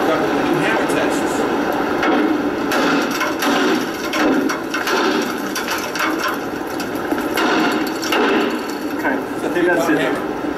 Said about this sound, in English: We walk up with the new hammer tests.